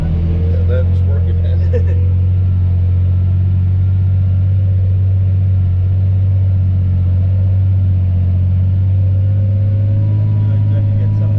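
A farm tractor works over hard, compacted dirt with a heavy, steady low engine drone that holds throughout, loud and close, with a faint voice briefly over it near the start.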